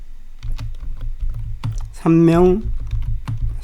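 Keys clack in quick, uneven bursts on a computer keyboard close by, with a voice speaking Korean briefly in the middle as the tapping continues.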